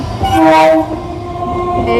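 A train passes close by with its horn sounding, a loud sustained tonal blast rising and fading over the rumble of rail cars, heard in Bangladesh or Bengal beside the track.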